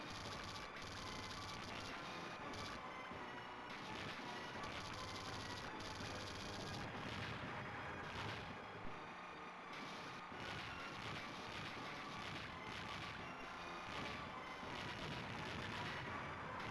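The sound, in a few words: bombs exploding in DonPachi video game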